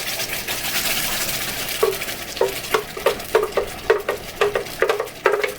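Chile enchilada sauce hitting hot oil in a pan, a steady sizzle with a dozen or so sharp scraping knocks as it is stirred, close and fairly loud, with no voices.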